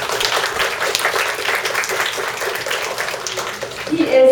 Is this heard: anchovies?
no